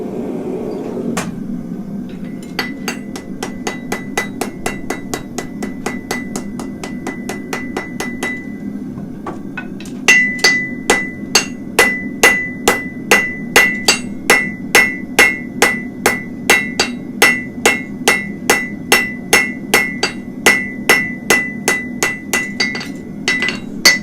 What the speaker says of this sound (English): So, I will now weld it.